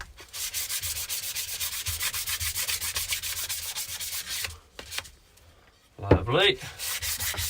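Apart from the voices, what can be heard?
light hand sanding of epoxy side table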